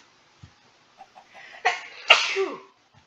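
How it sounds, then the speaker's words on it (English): A single sharp human sneeze bursts out near the mic, with a short explosive onset and trailing exhale, preceded by a few faint clicks and breaths during a quiet moment while mining in a Minecraft-style building game. "Sneezed."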